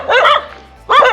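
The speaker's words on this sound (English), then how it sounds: "Noisy little dogs." Small dogs on a path in Bali give two sharp, loud yappy barks close by, separated by a brief pause.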